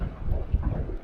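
Wind blowing hard beside the Mississippi River on a stormy day, a steady low rumbling buffet of gusts against the microphone with no other clear sounds.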